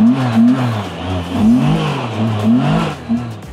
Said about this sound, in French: Le moteur, quand t'accélères, t'as l'impression qu'il y a comme une GT3 RS